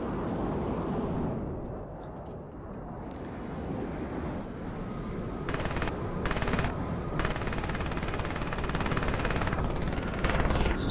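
Sustained machine gun fire from the Mechwarrior Living Legends video game, Chaos March map on Planet Tigress, rattling steadily for the whole stretch amid a dense din of battle, with louder bursts toward the end.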